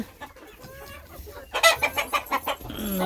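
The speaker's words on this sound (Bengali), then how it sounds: "দেশি মুরগি আছে" Native chickens cluck nearby in a quick series of short, bright calls, with softer clucking and rustling before a louder burst.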